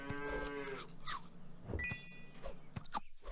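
A cartoonish cow moos once in the Super Auto Pets video game, a clear low drawn-out call at the start, followed by quick game clicks and soft effect sounds.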